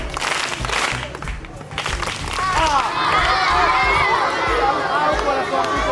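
A crowd at a community economic empowerment event in Mwanza bursts into loud, sustained clapping and cheering that swells and holds, with shouting voices mixed in.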